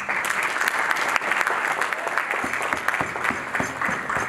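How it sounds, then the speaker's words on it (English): Audience applause at a university capital market challenge awards ceremony, dense sustained clapping from a crowd filling the whole stretch. "really I would want you to give them a round of applause."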